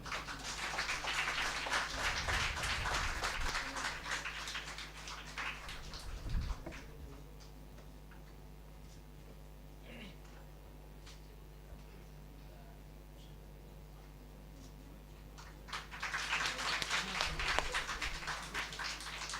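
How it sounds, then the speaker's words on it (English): Applause from the audience at a national symposium at Midnapore City College fills the opening seconds, fades to a quiet room with a low electrical hum, then swells again into another round of clapping near the end. "A big round of applause,"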